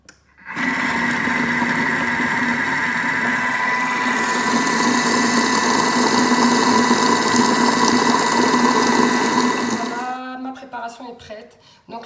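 A Thermomix runs steadily at speed 4 without its measuring cup, beating marshmallow mixture with a continuous loud whirring motor hum for about ten seconds before winding down to stillness.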